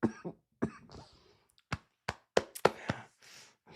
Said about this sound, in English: now I can't freaking stop the coughs whenever they come